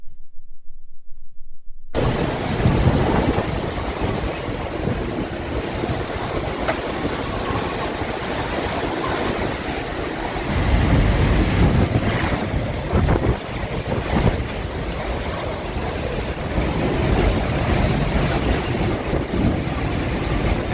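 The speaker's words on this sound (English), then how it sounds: "you're going to actually see the transition, the pulses of wind and the rain" Storm wind pulses and heavy rain roar in a dense, loud wash of wind buffeting and rain noise, surging in waves after a brief quiet start.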